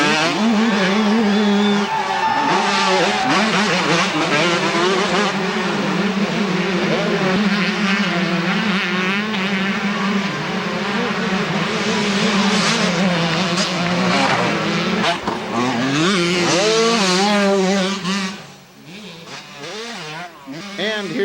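Several 125cc motocross motorcycles race past at a 1991 AMA pro motocross event at Kenworthy's in Troy, Ohio, their engines loud and continuous with wavering, overlapping revs, then fading away near the end.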